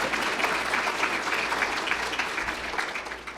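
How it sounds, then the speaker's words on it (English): Audience at a roundtable talk with an orchestra conductor applauds steadily, a continuous dense patter of clapping close and even throughout. "Applause for that."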